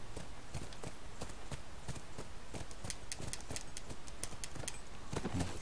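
Rapid, steady hoofbeats of a horse galloping in The Last of Us video game, a continuous run of clip-clop strikes at close range with no talk over them.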